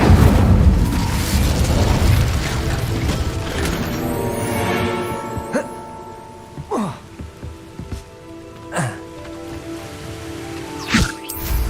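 In the Hogwarts Legacy video game, an Incendio fire spell bursts in a loud, dense roaring blast, then fades into a crackling wash broken by scattered booms and sharp hits.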